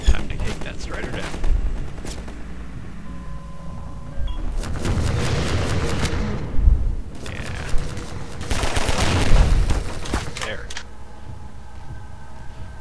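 Rocket launcher shots fired at a strider in Half-Life 2, loud booming blasts and crackling explosions among ongoing gunfire in a game battle, with someone talking over them.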